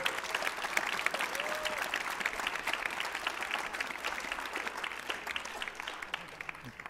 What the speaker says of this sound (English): I think we should give him a really big clap